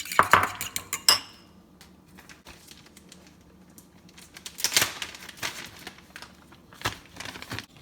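A spoon clinks and scrapes against a bowl while mixing churro chaffle batter with sugar replacement, with sharp taps at the start and intermittent scraping knocks afterward.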